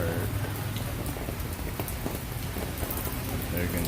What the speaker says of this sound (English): This is Hanoi, Vietnam, and it's raining